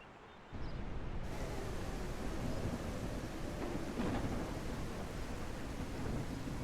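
Video game thunderstorm effects come on suddenly as a dense, steady roar of heavy rain with low rumbling thunder underneath, continuous and loud with no talk.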